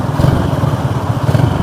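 Restored Honda C70 motorcycle engine idling nearby, a steady low putter with an even pulsing rhythm, loud and continuous throughout.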